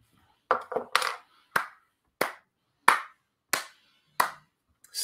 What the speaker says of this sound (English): Slow clap for those jokes.